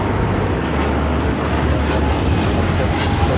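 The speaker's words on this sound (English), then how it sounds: "This is Japan Airlines Flight 15 taking off to Tokyo Haneda on the 777-300ER" A Japan Airlines Boeing 777-300ER takes off from LAX, its jet engines a loud, steady, broadband roar that fills the whole stretch with no voices over it.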